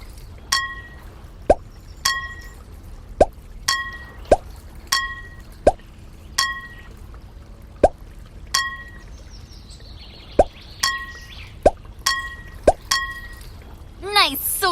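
Rocks drop one by one into jars in the Molly of Denali: Canoe Quest game, each landing as a crisp glassy clink-plop in a steady rhythm of about a dozen hits, loud and close over soft game ambience.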